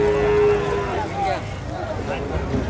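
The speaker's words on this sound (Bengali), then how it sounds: "আমাদের সামনে যে ষাঁড়টি আছে" At a busy Nilphamari cattle market ahead of Eid, a bull gives a drawn-out low moo at the start over a dense background of crowd noise and voices.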